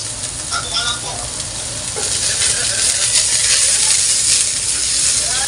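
Garlic and onion fry in a pan, a loud, dense sizzle that holds steady and swells slightly with stirring, heard up close with no voice over it.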